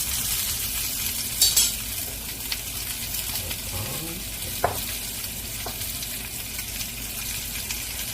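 Corn cooks in butter in a pan with sugar sprinkled over it, giving a continuous sizzle with a few light clinks and scrapes of stirring and no clear speech.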